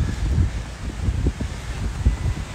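Wind gusts outdoors buffet the microphone during a casual skate, making an uneven low rumble that swells and fades with no voices.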